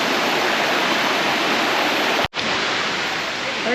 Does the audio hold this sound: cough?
no